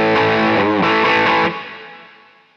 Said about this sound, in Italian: andiamo a selezionare il silicio, il germanio o appunto il FET, sarebbe il suono, ecco, come colora la nostra distorsione